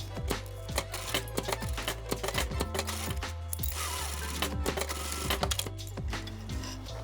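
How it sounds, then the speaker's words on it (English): A sewing machine stitches a reinforcing pattern on a hook and loop joint for a lacing system, running in steady rapid bursts with brief pauses and sharp needle clicks, close and clear with no talk. "you want to give it some strength with the thread, with the stitching"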